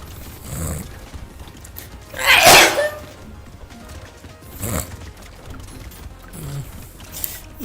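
Two loud, sharp sneezes burst out a couple of seconds apart, each standing well above a quiet background of soft mechanical clicks and ticks, with no talk over them.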